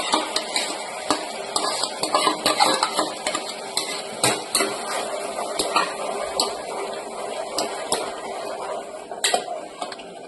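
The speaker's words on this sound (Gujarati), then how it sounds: "ડુંગળી આપણી પાકી ગઈ અને એમાં આપણી ટમેટાની ગ્રેવી નાખશું." Tomato gravy goes into cooked onions in a pan, with steady scraping, stirring and metal clinks of a spoon against the pan, plus light sizzling, close up and without talk.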